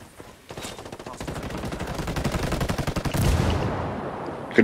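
Rapid automatic gunfire from several weapons crackles in a crossfire during a Ghost Recon Wildlands Ghost War match. Dense, close bursts build in intensity and run almost continuously.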